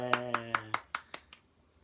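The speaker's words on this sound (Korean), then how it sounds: "박수." Hands clap in a quick run of about eight sharp claps that fade in loudness, preceded by a brief voice, quiet overall in an indoor room.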